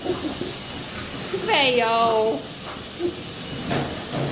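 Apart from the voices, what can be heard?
blow dryer running on a dog after bath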